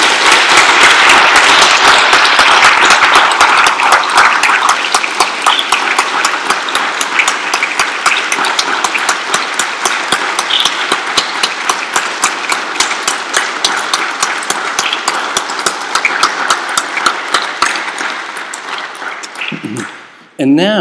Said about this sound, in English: I think we should all give Susan and Bill Mariner a great round of applause